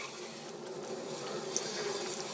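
Steady thin water stream flows through a Berkey black filter element during priming, a soft, even trickle with no voices.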